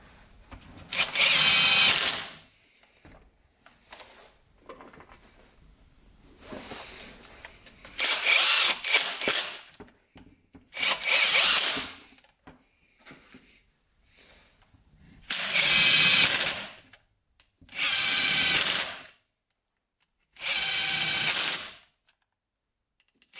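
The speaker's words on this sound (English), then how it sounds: "Let's get this and bolt it down." Power tool or ratchet bolting a part down on a Honda 200X ATV, heard as six loud bursts of whirring and clicking, each lasting a second or two, separated by quieter pauses with faint handling noises.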